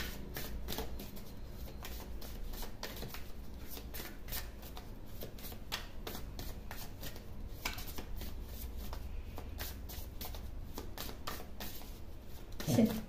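A deck of tarot cards is shuffled nonstop, giving a rapid, close, soft rustle and riffle of card edges that ends with a brief thump.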